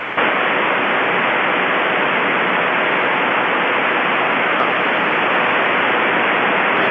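Steady, loud radio static hiss from an aircraft radio with the squelch broken open, a continuous broadband rush filling the whole stretch without pause.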